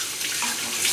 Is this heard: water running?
yes